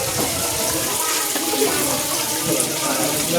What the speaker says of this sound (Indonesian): lalu siram lagi dengan air bersih.